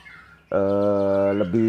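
A caged white-rumped shama sings a rich, clear whistled phrase with a sustained, bending note, loud and close after a brief quiet start.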